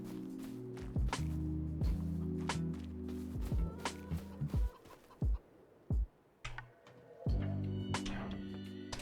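Chickens in Farming Simulator 25, clucking and scratching at close range, with a string of soft taps and thuds spaced across the scene over a steady low ambient drone.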